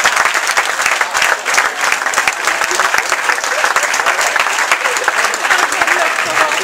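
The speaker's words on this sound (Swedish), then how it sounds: "Hippie Rune! Stor applåd!" Loud, dense audience applause for the performer Hippie Rune, steady clapping sustained throughout with no pauses.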